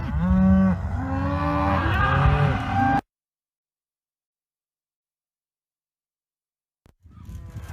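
Cattle on a ranch being sorted, several loud overlapping moos and bellows close by for about three seconds, then silence, then a return of rustling and animal noise.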